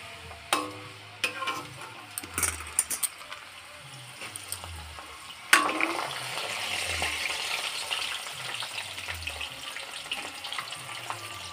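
Moong dal frying in hot oil, a steady sizzle that swells after a sharp clatter midway, with scattered stirring clinks and scrapes throughout and no voices.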